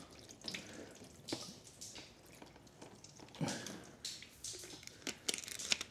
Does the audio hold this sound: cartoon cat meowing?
no